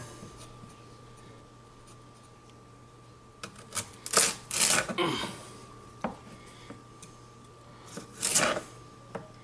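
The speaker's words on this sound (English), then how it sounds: "So I'm going to cut these along the long way." A knife slices vegetable tops lengthwise on a cutting board while making giardiniera, with a few close, crisp cutting and scraping bursts clustered in the middle and again near the end over a steady low hum.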